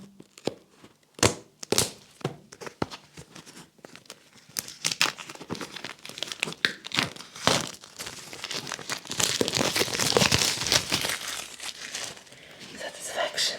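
Earbud packaging being opened and unwrapped: crinkling plastic, tearing and sharp snaps, sparse at first then denser and louder rustling, close up with a person speaking briefly around the handling.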